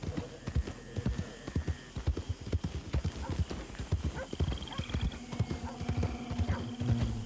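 Horse hooves clip-clop in a steady, uneven patter in Red Dead Redemption 2, with a horse whinnying briefly now and then over a soft background.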